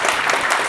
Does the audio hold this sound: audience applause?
yes